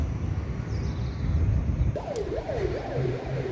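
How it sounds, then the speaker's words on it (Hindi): A wailing ambulance siren rises and falls repeatedly in the second half, at moderate distance, over steady background noise. "एम्बुलेंस का तो आवाज़ आते ही रहता है रोज़"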